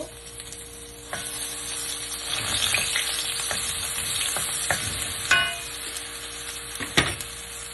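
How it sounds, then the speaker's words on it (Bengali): Chopped onions hit hot mustard oil in a pan, giving a continuous bright sizzle and crackle, with occasional sharp scrapes and clinks of a spatula stirring against the pot, close and clear with no talking. "তেল আমার গরম হয়ে গেছে, এবার আমি পেঁয়াজটা দিয়ে দিলাম। পেঁয়াজটা একটু ভেজে নিব।"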